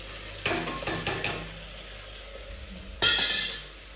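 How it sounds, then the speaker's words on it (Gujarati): Spices hiss and crackle in hot oil during tempering, with two sharp bursts of sizzling and stirring a few seconds apart, close and fairly quiet, no voices. "તો આવી રીતે જો આપણે વઘારી નાખ્યું"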